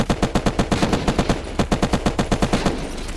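Rapid automatic gunfire rattles in the video game Unturned, a fast, even stream of loud, close shots with a few brief pauses before it trails off.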